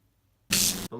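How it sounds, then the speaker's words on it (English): Makeup setting spray mists onto a face in one short, close burst of hiss that stops abruptly. "I'm just going to set it with a little bit of setting spray."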